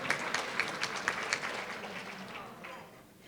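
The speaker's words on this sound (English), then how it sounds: "Yes, give yourselves a round of applause." Diners at a school district retirement banquet give a round of applause, soft and somewhat distant, with a handful of sharper claps standing out before the sound tapers away toward the end.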